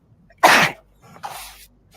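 A single loud, close sneeze bursts out sharply, followed by a softer breathy second exhalation, in a quiet room with no talking.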